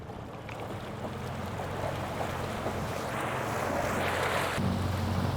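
Torqeedo Travel XP electric outboard pushing a small boat at full 1600-watt speed across open water, heard as a continuous rush of hull spray, waves and wind noise that builds gradually, with no talk.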